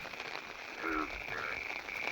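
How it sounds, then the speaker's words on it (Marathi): Frogs croak in a close, busy chorus of repeated short calls after heavy May rain, over a steady high-pitched hiss of night insects. "तर तो आवाज आहे माहीतच असेल तुम्हाला बेडकांचा"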